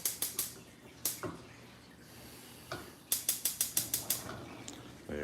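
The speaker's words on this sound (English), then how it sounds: "I'm going to go ahead and cut the stove on here." Kitchen stove burner being switched on for sautéing shrimp, a series of sharp rapid igniter clicks in bursts with quiet gaps between, close and crisp.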